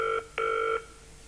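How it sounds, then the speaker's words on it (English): A telephone rings out on the line, two tonal ring bursts, the first cut short and the second longer, heard faintly and cleanly with no talking. "It's ringing out, Biggins. Ringing."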